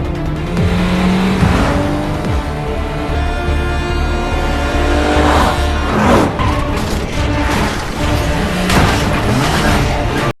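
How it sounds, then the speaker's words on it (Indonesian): Film car chase with cars tearing off at speed: loud, continuous roaring engines, whooshing passes and tire squeals, with dramatic swelling music layered throughout and no talk. "Kang Kyung pun langsung tancap gas dan kabur. Aksi kejar-kejaran pun terjadi"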